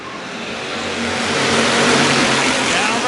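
IMCA Hobby Stock race cars pulling away at the start, a dense roar of several engines swelling louder over a few seconds, with a voice faintly mixed in.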